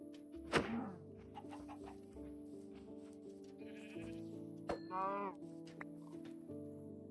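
Sheep bleat in a farming video game among steady looping background music and soft thunks, two short bleats standing out briefly.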